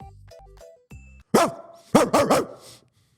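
A player's voice imitates a dog barking for an animal in a zoo video game: several short, loud, close barks in quick succession, with a softer one trailing off, following a few electronic game chimes.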